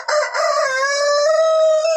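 A hen on a small backyard farm gives a single drawn-out, loud call that rises and holds, close and alone.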